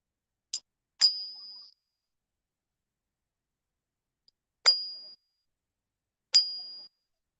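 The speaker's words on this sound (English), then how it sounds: "Well, we'll just ping it." An 1858 Denver seated liberty silver coin pinged, ringing with a clear high bright tone three times, each ring decaying over about half a second, preceded by a faint tap, in otherwise silent surroundings.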